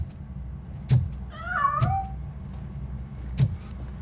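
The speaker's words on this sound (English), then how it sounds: "That cat must be hiding inside." A cat meows once in the RoboCop Rogue City video game, a short wavering cry between scattered soft thumps over a low ambient rumble.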